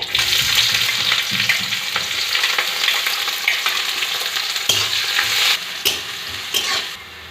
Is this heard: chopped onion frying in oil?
yes